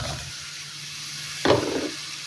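Red pepper hits a hot pan alongside rice, bursting into a loud sizzle with a sharp onset, then settling into a steady frying hiss as it is stirred.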